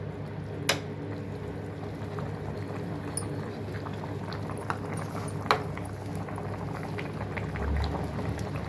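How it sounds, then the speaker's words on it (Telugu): Okra fish curry simmers in a pot, a steady close bubbling hiss with occasional soft pops and a faint low rumble of the stove beneath. "మరిగిపోద్ది."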